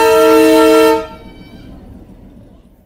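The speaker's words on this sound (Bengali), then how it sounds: "আর ওই যে আমাদের ট্রেন আসছে।" A Darjeeling toy train arriving at Kurseong station sounds its horn, one loud sustained blast of about a second that cuts off abruptly, followed by low rumble and ambient station noise.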